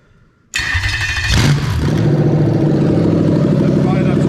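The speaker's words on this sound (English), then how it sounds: "We should hear the engine crank over and start." A Toyota UZ-FE V8 engine cranks briefly, then catches and starts, settling into a loud steady running rumble close by.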